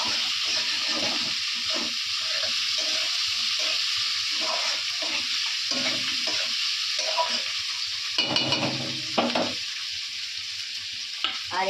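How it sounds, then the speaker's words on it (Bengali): Onions with chillies frying in oil spiced with cinnamon and cardamom, being stirred: a continuous hiss overlaid by repeated rhythmic scraping strokes of a spoon in the pan, close and steady. "পেঁয়াজটা ভাজা ভাজা হোক"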